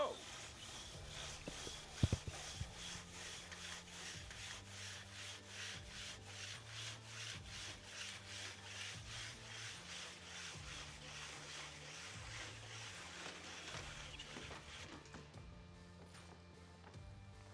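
A single saw rasps back and forth through a timber block at a woodchopping competition, a fast, even rhythm of strokes running continuously and fairly close, with faint crowd noise underneath.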